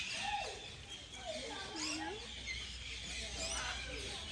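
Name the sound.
pet bird calling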